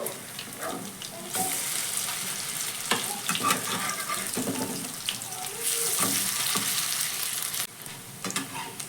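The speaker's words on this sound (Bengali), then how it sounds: "আগের প্রসেসের মতো একইভাবেই টিফিনগুলো ভেজে নেবো" Semolina snacks fry in hot oil with a steady bubbling sizzle, broken by stirring and turning noises and a brief lull near the end, heard close and alone.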